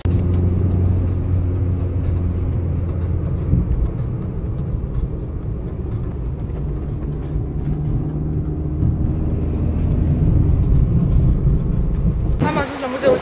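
A car drives along with a steady low engine rumble and road noise heard from inside the cabin, continuous for over ten seconds, with a sharp shift in sound near the end.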